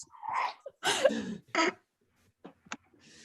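A single quick human sneeze, fairly close and moderately loud, followed by a few faint small sounds in an otherwise quiet room.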